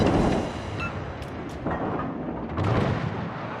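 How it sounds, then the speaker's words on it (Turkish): Naval cannons fire in World of Warships, heard as heavy booming blasts that roll into a sustained low rumble. The shots come in waves, loud and close, across the whole few seconds. "Böyle yandan gidelim de iki top atışı yapalım."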